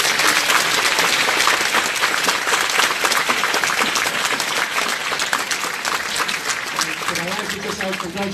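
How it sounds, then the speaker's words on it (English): Dense, sustained applause from a large graduation ceremony crowd fills the space, loud and steady before easing slightly as a voice begins near the end. "we give them a collective round of applause"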